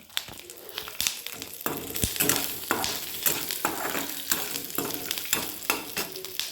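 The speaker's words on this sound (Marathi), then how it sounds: "थोडेसे शेंगदाणे भाजून घेते शेंगदाण्यामध्येच थो आपण त्याच्यासाठी निवडलेला लसण घालायचा" Peanuts and garlic roasting in a pan give a close, continuous sizzle, with frequent scraping and clattering as they are stirred.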